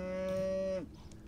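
A single loud cow moo from RuneScape, the game's cattle giving one steady drawn-out low for most of a second before it cuts off abruptly, with nothing else around it.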